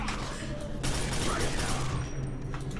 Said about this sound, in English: it's not burst; it's just continuous fire